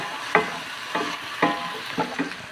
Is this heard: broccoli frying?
yes